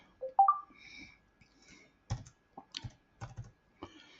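A password is typed on a computer keyboard in a few separate bursts of quick, light key clicks, close and quiet, with short pauses between groups of presses.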